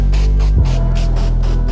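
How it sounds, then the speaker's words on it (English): A handheld spray bottle squirts water onto a car's side door window glass during a tint installation, a quick series of short hissing bursts in an even rhythm, close and loud over a low steady rumble. "spray your glass."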